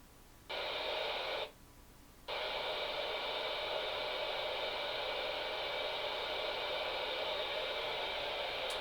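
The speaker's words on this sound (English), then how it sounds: "that's tuned for maximum static now, as you can hear" Steady CB radio static hiss on the 27 MHz 11-metre band from a Midland Alan rig with a portable magnetic loop antenna, loud and continuous, with one brief gap near the start before the hiss resumes and holds.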